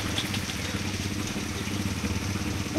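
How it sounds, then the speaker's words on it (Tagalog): A motorcycle idles at the Field and Stream campsite in Tanay, Rizal, after rain. It gives a steady, close mid-pitched engine rumble with a faint mechanical clatter that runs without pause. "Yun ang motor natin."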